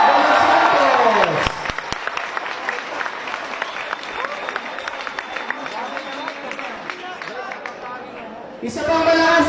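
A school audience at a national high school awards event in Antipolo City claps and cheers for an honored student. A voice rings out briefly, then dense applause and cheering run on before a louder crowd burst swells at the end.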